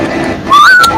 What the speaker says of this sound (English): humming them, or in my case, because I can even whistle